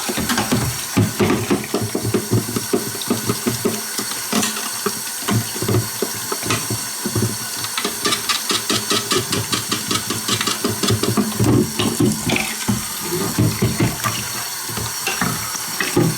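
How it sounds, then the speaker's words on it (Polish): Running tap water pours over the head of an external aquarium canister filter as it is rinsed, a steady, close splashing and gurgling wash that continues throughout with fluctuating pulses. "Głowicę czyszczę bieżącą wodą kranową"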